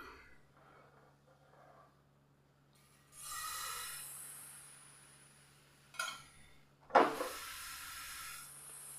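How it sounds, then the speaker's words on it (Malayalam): Ladles of pal pathiri batter go onto a hot non-stick pan, producing two stretches of soft, steady hissing sizzle, the second starting with a sharper knock and splash. "ഇനി നമുക്കിതിലേക്കങ്ങ് ഓരോ തവി മാവങ്ങ് കോരി ഒഴിച്ചു കൊടുക്കാം."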